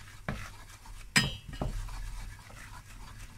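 Utensil scraping and clinking in a pan as cauliflower béchamel is stirred over low heat, with a few sharp metallic knocks standing out over a soft, continuous scraping background.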